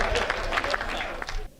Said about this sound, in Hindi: एक बार जोरदार ताली से।